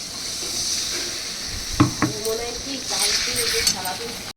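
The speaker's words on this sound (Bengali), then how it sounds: "এবার দেখো আমি দিয়ে দিচ্ছি জল।" Water is poured into a hot pan of butter paneer gravy, giving a hiss and bubbling with a few utensil clinks, while someone talks nearby.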